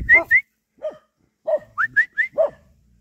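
Several shepherd dogs bark in short, sharp bursts at hikers on an outdoor trail, with about eight clear yaps spread across a few seconds, some rising into whiny, whistle-like tones, close and fairly loud.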